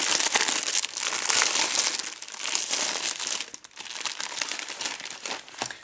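A Pokémon XY4 booster pack from a magazine torn open from the back, a loud close crinkle and rustle of foil wrapper lasting several seconds, with no voices.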